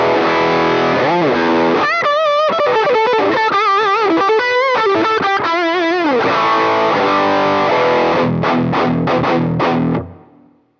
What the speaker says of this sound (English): Let's max the gain. You'll see there's tons of gain on tap here.